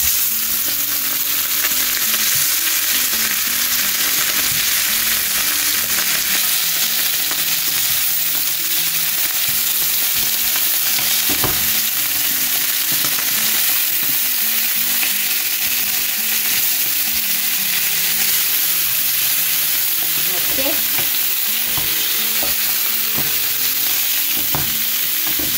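Salted Goan mackerel (bangda) frying in a pan makes a loud, continuous close sizzle, with occasional soft knocks and spatters standing out over the steady hiss.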